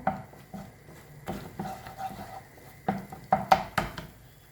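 Paneer curry masala sautéing in a pan over medium flame, with a spoon scraping and tapping against the pan in irregular clinks and knocks, moderately close and no talking.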